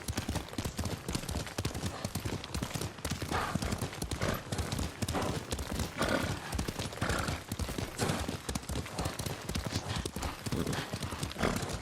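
Steady clip-clop of horse hooves at a brisk trot in a video game, continuous and fairly close, with an occasional whinny and faint background activity.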